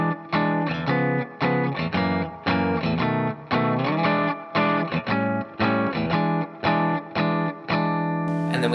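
Electric guitar chops through a blues turnaround, crisp rhythmic chord stabs in a repeating shuffle pattern with short gaps, loud and close with no voices.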